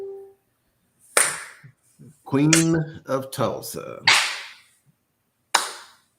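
A few loud, sharp hand claps spaced out between bursts of talking on a comedy or talk show, each clap a crisp, close snap standing alone in near silence.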